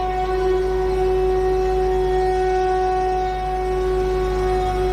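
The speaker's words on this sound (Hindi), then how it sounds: "दाऊ भैया, यह शंख कितना सुंदर है।" A conch shell blown in a Janmashtami devotional drama gives one long, steady, loud horn-like tone with rich overtones, sustained without a break and without any talk.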